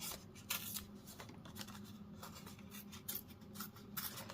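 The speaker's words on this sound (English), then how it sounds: "take the gray granite cardstock piece and tear a little from each edge" Gray granite cardstock is torn by hand in small bits along each edge, giving soft papery rips and rustles in brief, irregular bursts, close and quiet, with no talk.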